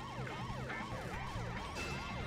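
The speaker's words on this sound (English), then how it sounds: "Oh my god, police car, no, why?" Police car siren wailing in the Simpsons Hit & Run video game, a steady rising-and-falling wail that repeats in quick cycles, loud and continuous.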